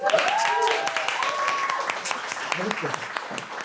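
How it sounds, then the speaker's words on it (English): Applause from a live business-event audience, dense and fairly loud throughout, with overlapping voices and cheering sounds mixed in over the clapping. "A round of applause for Marisa."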